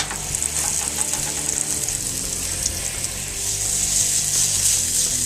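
Veggie burger patties sizzle and spatter steadily in a frying pan, a loud, dense crackling hiss with occasional pops throughout, close up and with no talking.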